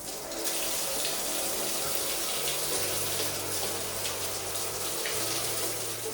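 Shower water running steadily in a truck stop shower stall, a continuous close hiss and splash with no talking.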